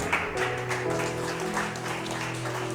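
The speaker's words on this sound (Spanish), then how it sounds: "Pónganse sobre sus pies y denle palmas al Rey." A church congregation stands and claps for the King during a Spanish-language sermon, with dense, steady applause mixed with a sustained tone from the sanctuary.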